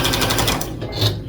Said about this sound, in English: Now I am going to go ahead and sew a lot